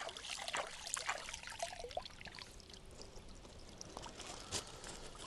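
Water poured and trickling over a spool of fishing line to soak it before carp fishing, an uneven splashy dribble with a few louder gushes, close and quiet.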